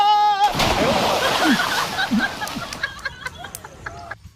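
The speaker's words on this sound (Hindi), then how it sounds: "अरे सूरज भाई, वो पानी में क्यों कूदा?" A person jumps into water outdoors, with splashing and sloshing through the middle of the clip and a babble of voices and chatter around it, moderately loud and close.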